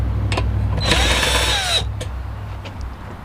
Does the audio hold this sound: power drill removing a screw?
yes